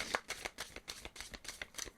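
Cards from a large twin flames oracle deck are laid out one after another, giving a quick series of soft, close flicks and slaps at a low level.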